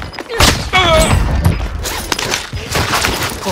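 Sustained gunfire and thudding impacts in a Call of Duty Warzone squad match on Rebirth Island, loud and cluttered, with a brief voice over the noise.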